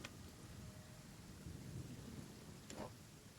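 A thunderstorm in the video game Genshin Impact, with steady rain hissing underneath and low thunder rumbling, plus a sharp crack near the end; no one speaks.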